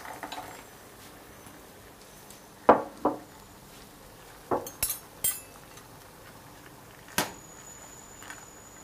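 Dried mushrooms dropped into a pot to hydrate make a few sharp clinks and light taps at irregular intervals over a quiet background, close by, with no talk.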